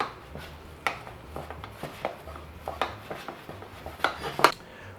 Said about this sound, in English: now we're gonna stir it pretty vigorously on the stove top